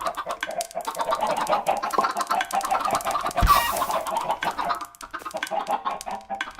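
Chickens in Minecraft clucking and squawking repeatedly in busy overlapping bursts, fairly close, with one sharper squawk midway and no talk over them.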